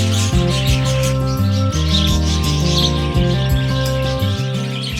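African lovebirds and parakeets in a breeding cage, chirping and tweeting loudly and continuously in a dense overlapping chorus, with a steady hum beneath and no talking.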